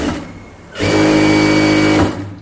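A sewing machine runs a straight stitch through chudithar top fabric in a tailoring session, one steady loud whirring burst of about a second after a quiet pause, then stopping abruptly.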